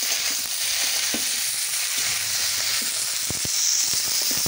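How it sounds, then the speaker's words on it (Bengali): Chunks of eggplant, potato and carrot frying in oil, a dense continuous sizzle with occasional low knocks and taps of stirring, no one speaking. "আলু, গাজর, এগুলোকে ভেজে নেব।"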